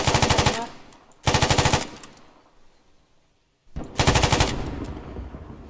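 Three long bursts of rapid automatic gunfire in Arma 3 during a group breach training session, loud and close, separated by short pauses with a fading tail after each burst.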